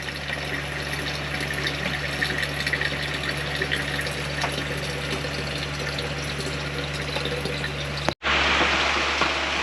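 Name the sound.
water stream from SimPure reverse osmosis filtration system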